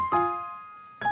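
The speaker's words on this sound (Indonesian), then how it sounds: "Semakin lama, lonceng itu semakin berbunyi dengan kencang." A single bright bell chime rings out and slowly fades, then a second strike begins at the very end.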